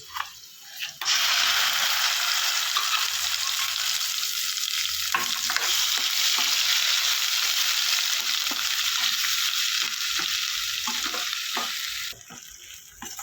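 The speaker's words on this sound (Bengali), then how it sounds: "বন্ধুরা, আমার এই পেঁয়াজ বাটাটা ভাজা ভাজা হয়ে গেছে।" Onion paste fries in a pan for a soybean curry, giving a loud, steady close sizzle broken by occasional spoon scrapes and stirring knocks, with no one talking.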